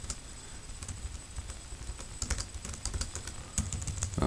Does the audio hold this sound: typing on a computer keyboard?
yes